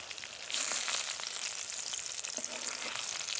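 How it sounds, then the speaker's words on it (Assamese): Large chunks of brinjal frying in a pan alongside a pork dish, a close, even sizzle with light crackle and stirring, no one talking. "এইফালে লগতে ডাঙৰ ডাঙৰ বেঙেনা কাটি লৈ ফ্ৰাই কৰি আছোঁ।"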